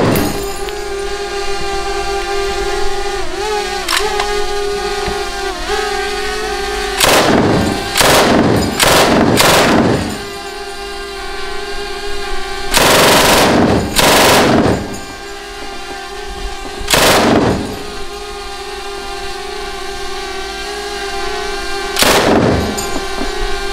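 IWI weapons are fired at an Israeli operator training facility's shooting range. Several loud, close shots and short bursts are spaced irregularly over a steady background hum, with no talking.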